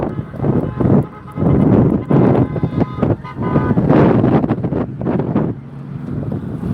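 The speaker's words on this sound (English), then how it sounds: "It's getting windy out here." Wind gusting at an outdoor protest over Tesla, battering the microphone in loud, rumbling blasts that rise and fall in waves for the whole stretch.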